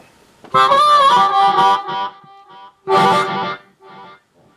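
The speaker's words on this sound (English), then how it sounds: "Let's just try to get a nice slap back echo out of this delay." Electric guitar played through a Behringer Ultratone K900FX amp with its delay effect set for a short slapback echo. Two bursts of strummed, slightly distorted chords ring out, each trailing off into a quick echo tail.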